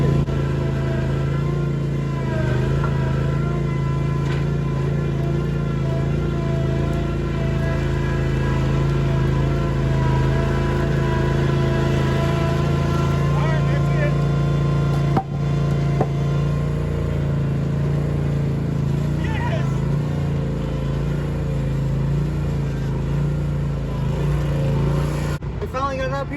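A lawnmower engine with a Bobcat hauling a 1959 Chevy Apache truck chassis uphill, a steady loud engine drone running continuously throughout with slight shifts in pitch and a brief bump midway.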